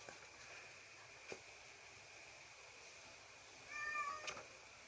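A cat meows faintly once near the end, over a quiet background hum with a couple of light clicks.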